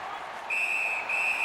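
A referee's whistle in the NHL 19 hockey video game, two sustained shrill blasts over crowd noise in the arena.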